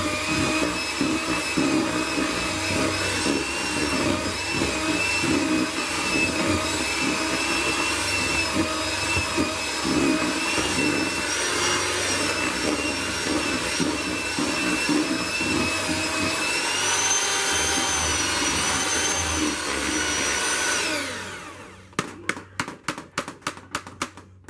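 A stick blender whips mango body butter with lavender essential oil, giving a loud, steady motor whine for about twenty seconds, then a run of short bursts as it is pulsed and stopped.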